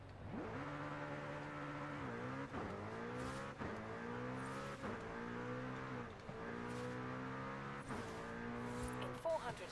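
A McLaren supercar engine in Forza Horizon 5 revving through repeated gear changes, each rising pull cut by a brief shift, steady and fairly quiet.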